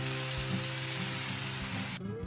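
Spicy chicken adobo sizzling in a pan as broth is poured in, a loud steady frying hiss with bubbling and stirring scrapes, cutting off sharply near the end.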